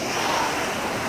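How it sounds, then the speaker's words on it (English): Heavy rain and strong wind make a dense, steady roar of broadband noise, loud and close, with gusting wind buffeting and no speech over the brief stretch. "It is pouring. And windy as heck."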